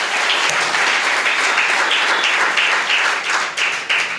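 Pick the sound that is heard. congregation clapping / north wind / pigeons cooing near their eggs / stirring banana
congregation clapping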